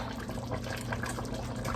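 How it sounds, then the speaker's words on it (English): About a cup and a half of water is poured into a pot of simmering beef short ribs. It makes a steady, rushing splash that runs the whole time without a break, and nobody speaks. "I'm going to add some water. I've got about a cup."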